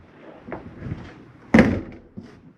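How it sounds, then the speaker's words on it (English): Doors and drawers being shut inside a 2018 Forest River Rockwood 8335BSS RV: a few soft knocks, then one louder close thunk and a lighter one after it, near and without talking. "Close all doors and drawers."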